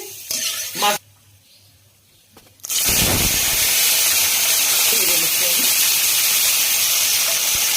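Morla fish frying in hot oil alongside potatoes, a loud, dense, continuous sizzle that bursts in suddenly after a brief quieter stretch of kitchen clatter and then holds steady up close.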